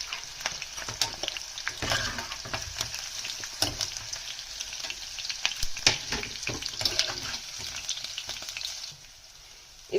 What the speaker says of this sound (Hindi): इसमें मैंने ऑयल डाल के अदरक और लहसुन का पेस्ट डाला था, वो मैंने लाइट फ्राई कर दिया है